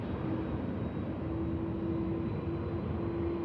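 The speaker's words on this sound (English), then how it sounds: "CF6 power on the way" Aer Lingus Airbus A330 with CF6 engines spooling up at Manchester Airport, a loud continuous jet roar with a steady whining tone, heard from a fair distance outdoors.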